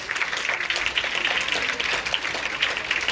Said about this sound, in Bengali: এবার সব থেকে বেশি জোরে হাততালিটা এখন হবে।